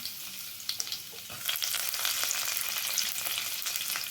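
Green chilies and mustard seeds fry in hot oil for a snake gourd and moong dal poriyal. The sizzle is close and crackly, softer at first, then swelling into a fuller, continuous spatter with a few sharp pops.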